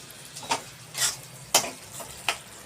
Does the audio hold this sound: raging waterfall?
no